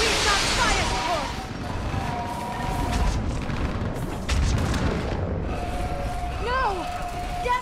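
Artillery fire support in Mass Effect Legendary Edition lands as heavy booms and rumbling blasts under a steady din of battle, with shouted voices and high whining tones over the explosions.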